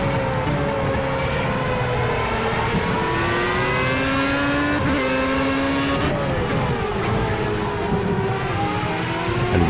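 Formula A race car engine howling at full throttle in Project CARS at Brands Hatch, a loud, continuous high-pitched whine climbing through gears with sharp shifts, other cars audible nearby.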